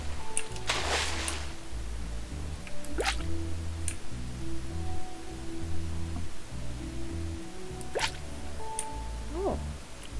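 A character swims through water in the game Dinkum near a crocodile, with soft splashes, drips and squishy in-game water sounds over a low, looping background tone.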